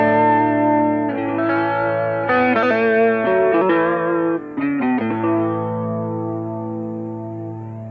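An electric guitar played through its neck pickup alone, with effects including distortion and reverb, holds sustained, dark, thick chords and single notes that shift a few times before a long fading ring, close and loud with no talk.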